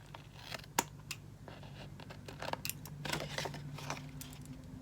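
Paper being trimmed with scissors for a planner, faint close snips and papery scratching scattered irregularly over a low hum, with a soft background murmur.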